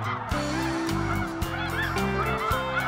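Snow goose calls played loudly from an electronic caller during a South Dakota hunt, a dense, continuous chorus of rapid honks and yelps without pause.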